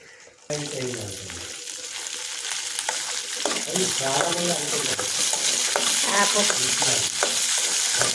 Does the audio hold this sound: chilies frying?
yes